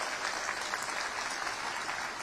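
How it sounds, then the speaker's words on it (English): A crowd at an outdoor political rally in Penticton gives a round of applause, a dense, steady wash of many hands clapping at even loudness, no voices standing out. "Give him a round of applause."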